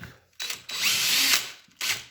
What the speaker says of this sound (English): So as you're drilling, once you see it start to wipe the sawdust away, you know you're there.